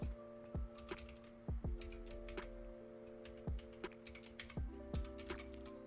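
Typing on a computer keyboard in a Discord ticket room, a string of quiet, close, irregular key clicks with soft tonal chimes sounding underneath.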